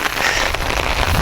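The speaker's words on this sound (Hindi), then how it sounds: "कि बारिश हिलने भी नहीं दे रही" Heavy rain pours down steadily, a dense, loud broadband hiss that stays constant throughout with no pauses.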